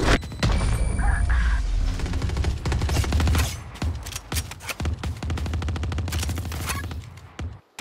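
A Killjoy swarm grenade detonates in a Valorant match, bursting into a rapid, loud crackle of repeated small blasts that rattles on steadily for several seconds, with faint game sounds underneath.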